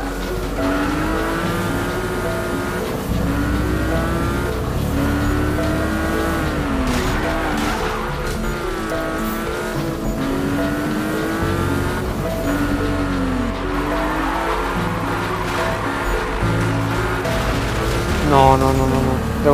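Car engine revving and shifting in the Need for Speed racing game, a continuous loud motor tone rising and falling through gears with tire squeal, while someone talks over it.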